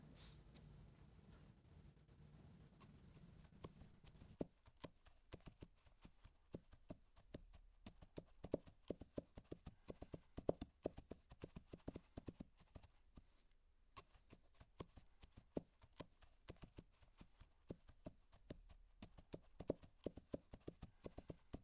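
Horse hooves clip-clop in a quick, steady rhythm as a rider moves fast through a medieval-style scene, starting after a short quiet stretch and continuing close and crisp throughout.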